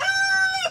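A single rooster crows loudly and close by, one drawn-out cock-a-doodle-doo that rises and trails off at the end.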